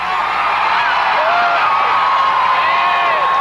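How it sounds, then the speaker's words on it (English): Crowd at a Smoky Mountain Wrestling event in 1994 roaring and whooping continuously, a loud sustained wall of cheers and yells with a few higher shouts rising out of the mass. "Listen to the crowd."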